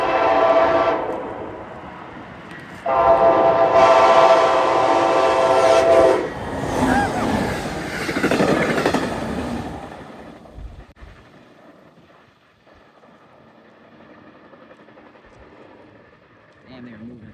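Charger locomotives hauling a train past trackside after rain, a loud roar of engines and rolling cars that peaks then fades to quiet rumble, with a horn-like tonal band early on.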